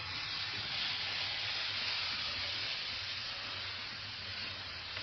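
Steady hissing sizzle of gram flour and potato paratha batter spreading on a hot griddle, continuous and fairly quiet, with a low hum underneath and no voices.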